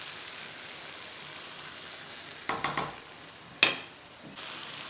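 Arbi masala curry simmers quietly in a pan as a low, even sizzle, broken by a few brief stirring scrapes and one sharp clank of a spoon.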